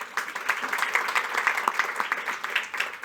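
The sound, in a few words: applause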